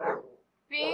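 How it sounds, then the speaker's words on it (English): A happy dog rolling on her back gives a brief burst of grunting, whiny vocal sounds, split by a short pause, up close. "That sound is my dog rolling on her back and being happy."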